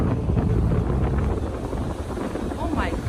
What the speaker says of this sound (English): Maybe it's too windy.